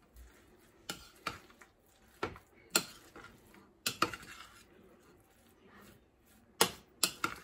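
Meatball mixture being mixed with egg in a bowl: a utensil scrapes and clinks against the bowl in irregular, fairly faint taps, several in quick clusters, with quiet pauses between.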